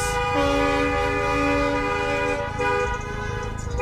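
A loud, sustained semi truck horn blast with strong steady tones, held for several seconds before fading slightly, over low rumbling traffic from a march's car caravan.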